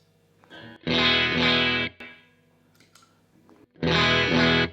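An electric guitar through an Aclam Windmiller overdrive pedal: two loud, thick distorted chords ring out, each sustained about a second, with quieter string noise and a softer strum between them.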